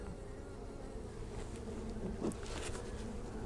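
Honeybees buzz in a dense, steady swarm at an open beehive during a swarm-cell inspection, a close and continuous hum with no talking.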